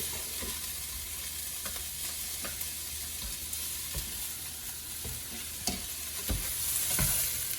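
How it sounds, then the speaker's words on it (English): Diced onions sizzle steadily in a hot pan, a continuous crackling hiss with occasional soft stirring taps, heard up close without talking. "pour in these beautifully diced onions and not freak out when they sizzle."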